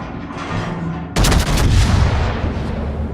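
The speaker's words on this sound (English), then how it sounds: "Shots out over the island." Battleship main guns fire in the World of Warships naval combat game: a sudden loud, booming salvo that erupts over a continuous rumble of background noise, then rolls and fades.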